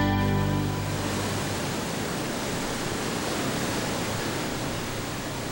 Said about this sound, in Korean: 고든 여울이란 뜻의 직탕 폭포는 다른 폭포와는 달리 높이는 3m 정도지만 폭은 5, 60m나 되는 옆으로 길게 뻗은 폭포다